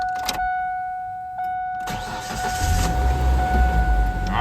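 A 1999 Ford Ranger 2.5L four-cylinder engine cranks and catches after a crankshaft position sensor wiring repair, settling into a steady, close idle after a brief electronic whine and a couple of clicks.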